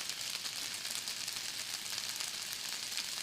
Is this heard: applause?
no